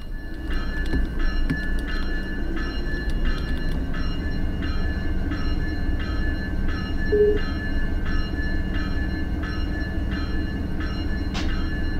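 A train in a railroad simulator game rolls past with a steady, continuous low rumble and sustained tonal hum that stays level and fairly close, with no clearly distinct horn blast standing out.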